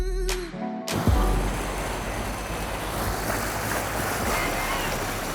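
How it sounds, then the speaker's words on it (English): Boat on a lake pushed by a Torqeedo electric outboard, heard as a steady rushing wash of water and wind noise after a brief clunk, continuous and fairly close, with no clear motor whine standing out. "We also ran our Torqeedo for the first time."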